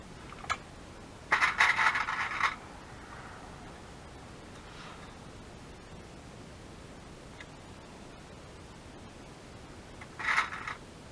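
Scissors trimming paper for a journal, two short bursts of crisp snipping and scraping at the start and near the end, quiet and close, with faint rustling between.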